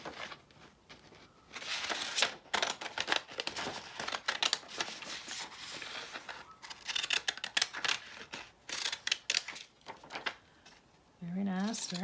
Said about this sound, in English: I'm just going to trim around it with my decal edge scissors.